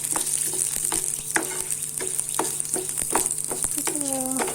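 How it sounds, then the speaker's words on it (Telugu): Chana dal roasting in a spoon of oil in a pan for moringa powder, a steady close sizzle broken by repeated scraping stirs and clinks of a spoon against the pan, with no talk. "అందులో 1 స్పూన్ ఆయిల్ వేసుకొని బాగా వేయించుకోవాలి"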